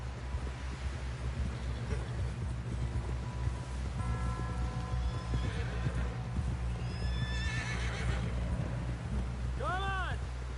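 A horse whinnies and neighs with steady hoofbeats over a constant low rumble and wind in Red Dead Redemption 2, a sharp high whinny standing out near the end while voices talk intermittently.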